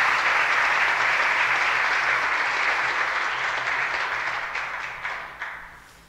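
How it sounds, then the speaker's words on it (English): A crowd applauds steadily in dense, continuous clapping that holds loud for several seconds, then thins and fades out with a few final claps. "I don't deserve all that applause."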